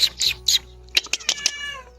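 A stray cat indoors in a village house gives several short, high meows close by, a quick trio followed by a longer wavering cry that trails off.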